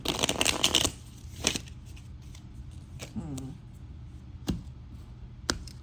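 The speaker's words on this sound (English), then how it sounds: "Let me give it a good shuffle." Tarot cards are shuffled, a dense papery riffle up front, then scattered single card snaps and taps, close by, with a quiet voice briefly in the pause.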